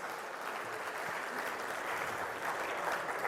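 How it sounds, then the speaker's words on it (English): A conference room audience gives sustained applause for two speakers at a media buying event, steady and moderately distant clapping that continues evenly throughout with no voices on top. "So let's get another round of applause for Amish Shah and Jay Styles."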